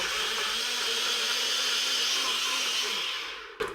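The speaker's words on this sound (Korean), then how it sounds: "그럼 먼저 오렌지부터 가세요" An ordinary kitchen blender grinds oranges for juice, a steady, close whirring motor whose pitch drifts slightly downward before it winds down and cuts off near the end.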